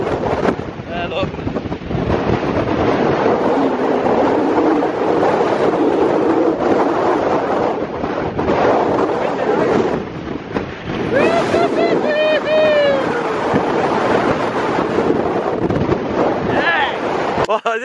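Strong gusting wind buffets the microphone on an open Peak District hillside, a loud continuous roar with surging gusts throughout, while people talk and call out over it.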